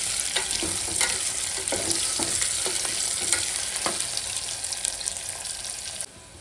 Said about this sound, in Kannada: ಇನ್ನೊಂದು ಎರಡು ನಿಮಿಷ ಎಣ್ಣೆ ಒಳಗೆ ಫ್ರೈ ಮಾಡ್ಕೊಡಿ